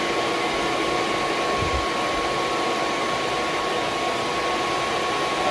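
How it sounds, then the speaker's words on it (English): A shop vac roars steadily and loudly while cleaning out a wood burner, a constant broadband whoosh with a faint whine running unchanged throughout, no voices. "We're at my shop vac. Clean out all this."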